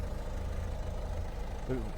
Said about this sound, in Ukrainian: Дивіться, як робить гарний двигун.